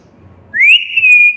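A child whistles one clear rising note that levels off and holds steadily, loud and close after a moment of quiet.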